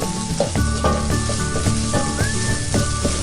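Red curry paste being stir-fried in a little oil for a spicy catfish curry, with a loud, close, continuous sizzle and regular rhythmic scrapes and knocks of a spatula against the pan.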